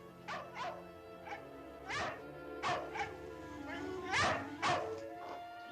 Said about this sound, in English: The dog's thirsty